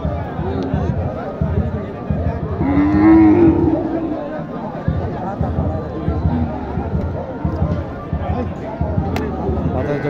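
Cattle low at a livestock market for local cows, heifers and calves in Naogaon, with one clear moo rising above a crowded, noisy background of people talking nearby.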